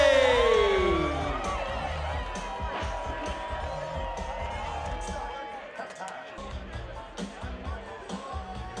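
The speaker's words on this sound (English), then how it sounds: "Give him a huge round of applause." A crowd cheers and applauds outdoors at the 89th annual Slush Cup at Sunshine Village in 2017. The cheering is loud at first, then eases into a steady babble of voices and whoops, with bursts of clapping throughout.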